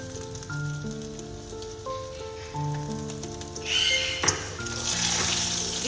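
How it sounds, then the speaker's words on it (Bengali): Dried chilli, bay leaf and chopped ginger tempering frying in oil for moong dal, a soft sizzle rising partway through and continuing under steady background music, with no talking. "এটা ফোড়নটা একটু ভেজে নিলাম"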